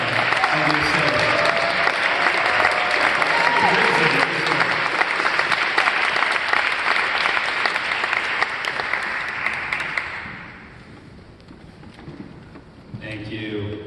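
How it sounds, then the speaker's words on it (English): Audience at a town hall on e-bike licensing applauds in a dense, loud burst of clapping for about ten seconds, then fades as a speaker begins talking. "Give yourself another round of applause."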